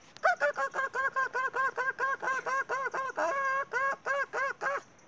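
A human voice mimics a chicken with a rapid, steady run of about twenty loud, close clucking calls in an even rhythm, each a short nasal note, with no other sound.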